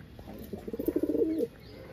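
A pet pigeon gives a soft, rolling coo, a single throaty burst of rapid pulses lasting about a second. It is close and fairly quiet against a low background hum.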